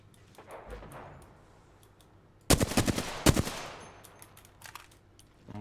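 Gunfire in the video game Apex Legends: quiet scattered shots, then a loud rapid automatic burst of about a second and a half with a second short volley, trailing off into faint distant pops.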